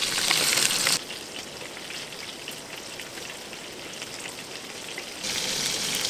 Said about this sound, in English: You can see the oil boiling away frantically just in the middle there